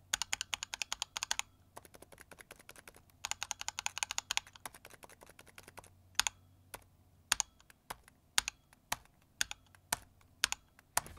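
Brisk typing on a Razer Huntsman V2 TKL mechanical keyboard with linear switches: dense bursts of close, crisp key clacks, then slower, separate keystrokes spaced through the rest of the clip, with no talk.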